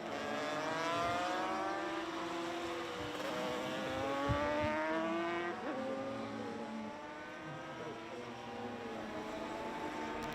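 ICGP road-race motorcycles roar through the Imatranajo circuit in Finland, engines rising and falling in pitch as they pass, loud and continuous with layered whines and gear changes, no voices.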